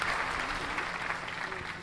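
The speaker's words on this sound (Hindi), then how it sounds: "मैं निवेदन करता हूं एक बार जोरदार तालियां देश के बड़े रचनाकार गुरुदेव कमलेश मौर्य मृदु जी के लिए बजाएं" A Hindi poetry gathering (kavi sammelan) audience claps loudly for a poet, a short, dense, continuous burst of applause at steady volume.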